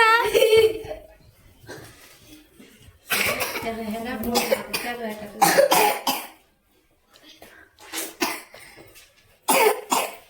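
A child coughs in several sharp bursts, with brief pauses between fits and a voice murmuring nearby.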